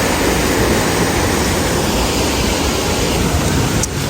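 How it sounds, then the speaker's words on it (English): A steady, loud roar of river waterfall water in Maggotty, St. Elizabeth, Jamaica, continuous and close, pouring without pause. "it actually has a beautiful falls"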